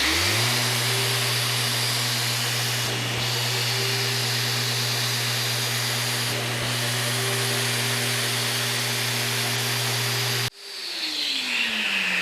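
A MAXXT 6-inch random orbit sander with variable speed set mid-range runs with a dust extractor attached, making a steady loud whir and airy suction roar for about ten seconds before the tone drops as the machine is switched off.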